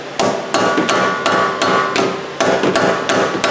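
Metal hammer blows on a Chrysler 200 front wheel bearing ring out in a steady rhythm, about ten hard strikes close by, each with a bright clanging ring.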